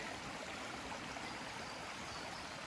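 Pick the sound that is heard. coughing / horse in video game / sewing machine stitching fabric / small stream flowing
small stream flowing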